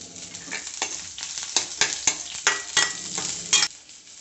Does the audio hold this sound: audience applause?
no